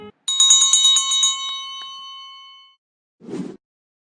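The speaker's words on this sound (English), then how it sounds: "Listen to the bell as it rings." A small percussion bell rings with a bright, sustained metallic tone that decays over about two seconds, clear and close with no talk, followed by a brief soft rustle.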